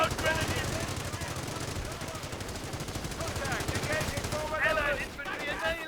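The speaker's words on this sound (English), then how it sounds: "they have a machine gun on this side, too?" Rapid machine gun fire in the Company of Heroes: Panzer Elite strategy game, dense sustained bursts of rattling shots with battlefield noise and a voice speaking over it.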